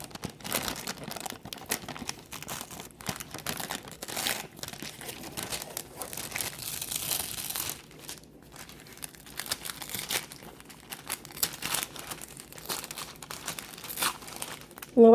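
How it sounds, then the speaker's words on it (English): A cooled hot glue crown is peeled slowly off wax paper, giving a long run of close crinkling and tearing crackles with irregular bursts and brief pauses. "I'm going to go ahead and just peel it off of the paper."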